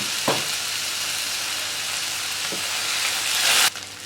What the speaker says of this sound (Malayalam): അരപ്പ് ചേർത്ത് നന്നായിട്ട് വഴറ്റി കൊടുക്കാം.